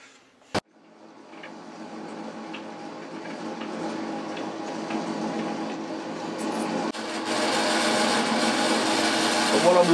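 A metal lathe cuts a bore in a workpiece, a continuous grinding machining hum that builds gradually and grows louder toward the end, after an initial sharp knock.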